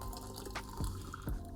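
Boiling water poured into a cup of vintage Maxwell House instant coffee: faint, close trickling and dripping with a few small splashes, no talk.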